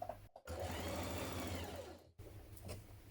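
A sewing machine stitches the curved crotch seam of trousers, giving a steady, close mechanical whirr for about two seconds that stops cleanly, with short bursts of motor hum before and after.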